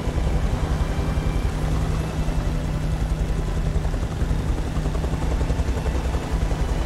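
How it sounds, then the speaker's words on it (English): A helicopter in the video game Beyond: Two Souls roars close by, a loud, steady rotor drone with deep throbbing low end that continues throughout without speech. "I can't see with this big old helicopter in the way."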